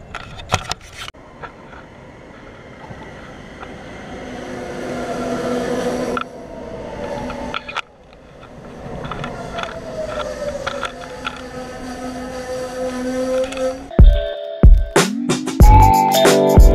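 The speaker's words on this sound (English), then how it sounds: "train is coming." A train approaches and passes somewhere in the USA: a low rumble and humming tones slowly build over several seconds, then sharper clanks and bangs close by toward the end.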